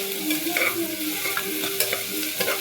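Ginger garlic paste fries in a pan, a close, even sizzle with repeated scraping strokes of a spoon stirring through it, no voices.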